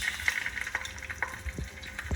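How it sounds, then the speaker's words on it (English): Soft crackling and popping of sausage frying in hot oil, steady and fairly quiet with occasional sharper spits. "When you hear that sizzle,"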